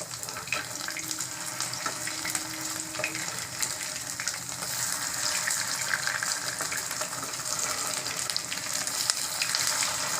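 Poha cutlets fry in a pan of hot oil with a steady, dense sizzle and crackle that holds at an even level without pause for about ten seconds.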